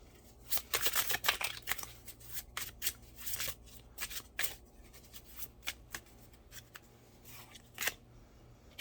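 Tarot cards shuffled by hand during a reading, a series of crisp riffling bursts and soft slaps, quiet and close, with short pauses between shuffles and no talking.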